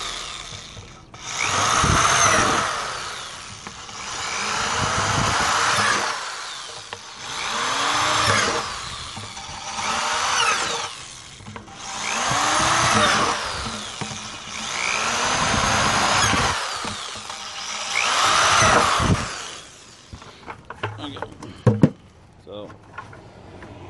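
A power drill bores holes around the edges of a container's bottom for a backyard quail maggot farm, running in about six loud bursts of a couple of seconds each, with short pauses and clicks between them.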